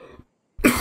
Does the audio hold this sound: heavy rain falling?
no